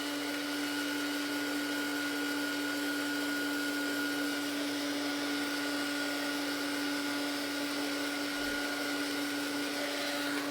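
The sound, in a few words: tool drying paint on art journal card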